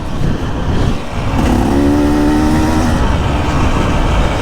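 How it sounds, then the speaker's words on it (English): A 2024 KTM EXC 300 two-stroke dirt bike engine revs loud and close, a brief dip then a sustained high-pitched buzzing rev held steadily to the end. "Sounds like an old school two-stroke."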